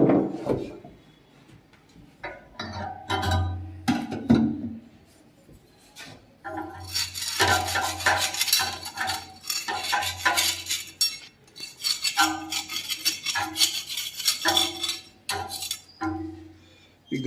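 Metal parts of a chakki flour mill being cleaned by hand: intermittent scraping, rubbing and clanking of metal, with bursts of harsh rasping broken by short pauses, close and moderately loud.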